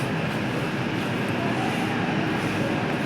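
A train passes nearby with a steady, loud rolling rumble that fills the whole stretch without pause. No voices are heard.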